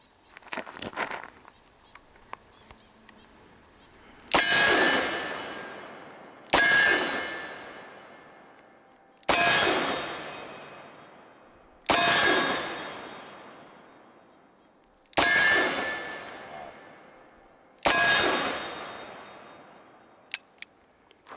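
Smith & Wesson 629 Classic .44 Magnum double-action revolver fired six times at regular intervals of about two and a half seconds, each sharp loud crack trailing off in a ringing echo outdoors.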